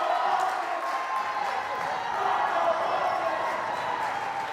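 High school basketball crowd at a Pacelli Vikings versus Douglas County Tigers game counting down the closing seconds, a dense steady roar of many voices filling the gym without a break.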